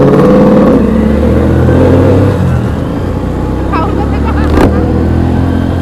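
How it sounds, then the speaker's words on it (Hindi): Vehicle engine revving loudly nearby, a steady motor roar that dips slightly midway and then swells again, with a voice talking over it. "एक बार में रेस दी जाएगी राहुल"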